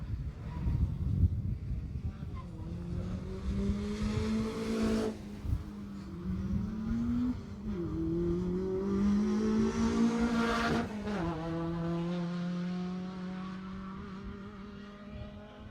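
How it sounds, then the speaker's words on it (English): A Peugeot 205 GTI rally car at the Jersey Rally drives past close by with a loud, revving engine that rises and falls as it shifts through the gears, and brief tyre noise can be heard over the steady engine tone. "Another Peugeot 205 GTI."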